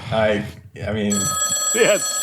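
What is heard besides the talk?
telephone bell ringing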